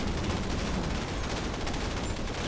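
Unit weapons in the real-time strategy game Command & Conquer 3: Kane's Wrath fire continuously, packing dense overlapping gunfire and blasts into a loud, unbroken barrage.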